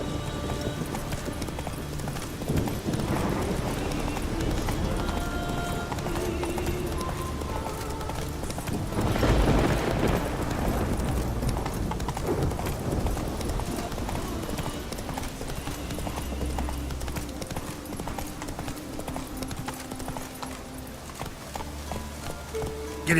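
A horse gallops steadily in The Witcher 3 video game, its rapid rhythmic hoofbeats continuous and close under a bed of game ambience and music throughout.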